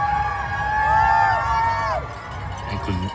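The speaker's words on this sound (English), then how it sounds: "I could hear people cheering with my name." Spectators along the New York City Marathon route cheer and shout for passing runners, a close crowd with whoops and rising shouts over the rumble of the street.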